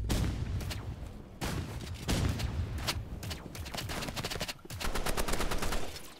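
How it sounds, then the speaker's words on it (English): Rapid gunfire in a Roblox shooter game, dense bursts of repeated shots with short pauses between volleys, loud and up close, with no talking. "Gonna send a warning shot."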